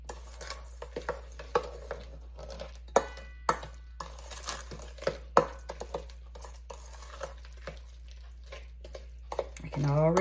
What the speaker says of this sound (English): I'm going to give that a stir to get it started here